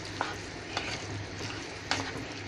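Pav bhaji being stirred in a pan over a low gas flame, a steady soft sizzle broken by a few sharp scrapes of the spoon.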